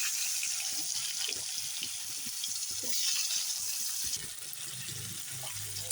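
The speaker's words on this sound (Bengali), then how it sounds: "এখন আলুগুলো দিয়ে দিচ্ছি আলুগুলো ভেজে নেব" Potatoes frying in hot oil in the same oil used earlier for paneer: a steady, close hiss of sizzling with occasional light clatter, continuous throughout.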